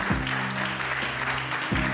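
A church congregation applauds with steady, dense clapping. Sustained organ or keyboard tones ring underneath, and the whole is moderately loud.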